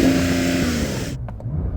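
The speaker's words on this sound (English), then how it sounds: "So I'm going to rev up this turbo." A Porsche 911 Turbo S engine revs in a loud, sustained, whooshing roar at close range, much like a vacuum cleaner, then cuts off sharply and leaves low rumbling behind.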